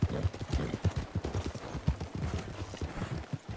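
Horse hooves clopping in steady rhythm as a horse-drawn cart travels in Red Dead Redemption 2, heading toward the Tumbleweed stable during a winter endurance race; close, continuous clip-clop with an occasional faint whinny.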